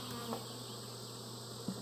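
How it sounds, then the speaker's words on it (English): Steady insect buzzing of many honeybees building out comb in a hive, a continuous close drone with a faint soft knock near the end. "Building out comb, building out comb, busy bees."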